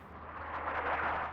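Artillery fire and explosions rumble from the North Africa RTS game Attack at Dawn, forming a continuous dull roar of overlapping blasts that swells slightly toward the end, with no talk over it.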